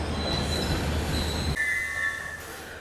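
The Mysuru Swarna Jayanti Express rumbles through a station with wheels squealing in a high steady whine, close and continuous, the low rumble dropping away partway while the screech carries on.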